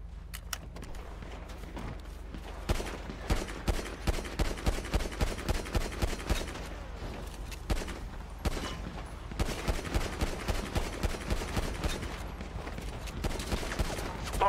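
Rapid gunfire rings out in a roleplay video game shootout around an oil rig and tanker, dense bursts of repeated shots in rhythmic volleys over about fourteen seconds, loud and close with scattered quieter cracks between.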